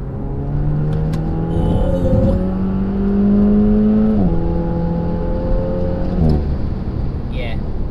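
A Renault Megane RS accelerates hard in third gear with a steadily rising engine drone heard from inside the car, broken by a brief dip as it shifts up before pulling again.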